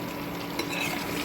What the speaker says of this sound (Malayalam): കുറച്ചുകൂടെ ഫ്രൈ ആവട്ടെ.